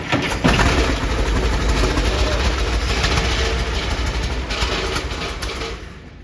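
A Tucker '48 car engine cranks and catches, giving a steady loud rumbling mechanical drone close by for about six seconds, with no talk over it.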